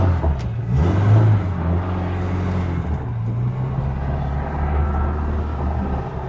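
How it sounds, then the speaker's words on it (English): A Lada Niva engine rumbles deep and steady at close range, a low throaty drone that swells slightly early on and then holds. "Lots of funky sounds coming from this beast of a car."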